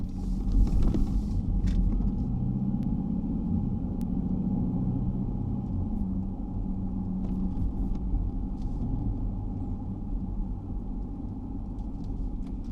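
A 2021 Mercedes-Benz G63 with a twin-turbo V8 drives along, its low engine rumble and road noise steady and close throughout, with a few faint mechanical creaks and no talking.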